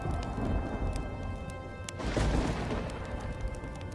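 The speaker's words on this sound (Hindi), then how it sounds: "आसमान में काले बादल छा जाते हैं और जोर जोर से बिजली कड़कने लगती है" Thunder crashes over steady heavy rain beneath dark storm clouds, a continuous wet hiss with a sharp crack and rolling rumble swelling near the midpoint, loud and close with no voices.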